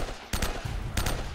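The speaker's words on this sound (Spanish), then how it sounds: "Ahí está, disparo a la cabeza." Two sharp gunshots from the Uncharted 1 video game, about half a second apart, each a loud, brief burst with a quick multi-shot tail, over a low game background.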